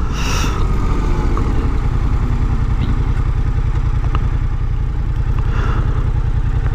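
A Yamaha MT-07 Tracer motorcycle idles close by after pulling to a stop, its twin-cylinder engine giving a steady, rapid low thump with light mechanical clatter above it and no talking.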